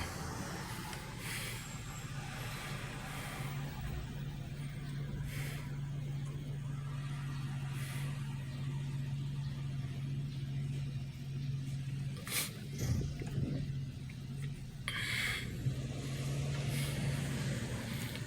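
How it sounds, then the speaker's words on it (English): Road traffic on a downtown McKeesport street forms a steady low engine drone, with occasional cars passing and a few brief knocks and bumps. It stays moderately distant and continuous, with no voices. "And I'll let the traffic go before I run down the road."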